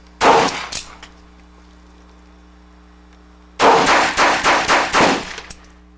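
Cheap Saturday night special handgun fired in two bursts: a few sharp shots close together at the start, then a rapid string of about six loud, close reports after a pause of near silence.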